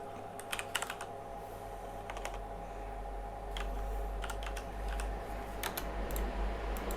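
Computer keyboard typing text, light irregular clusters of key clicks over a steady low electrical hum, fairly quiet and close, with no talking.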